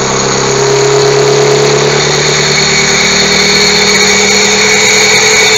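A freshly rebuilt car engine runs at a fast, raised idle of about 1100 rpm with the idle screw at maximum, a loud steady hum that holds constant from start to finish, up close.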